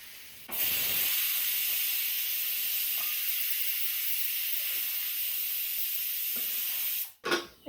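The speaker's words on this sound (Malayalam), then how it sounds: "കുക്കർ നമുക്ക് ഓഫ് ചെയ്തേക്കാം. മതി, അവിടെ നിന്ന് പോട്ടെ, ആവിയൊക്കെ പോട്ടെ." Steam hisses loudly and steadily from a pressure cooker on the stove, a constant close rush that stops abruptly near the end.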